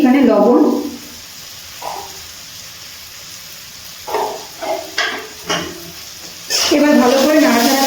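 Chopped tomato with salt stirred in a frying pan: soft wet sizzling and scraping strokes of a spoon against the pan come in short bursts, with a person talking at the start and end.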